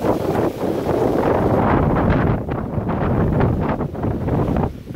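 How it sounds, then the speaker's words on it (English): Strong, roaring thunderstorm wind gusts of 40 to 50 mph buffeting the microphone, a loud continuous rumble that surges and eases over several seconds. "there is some strong winds with this storm"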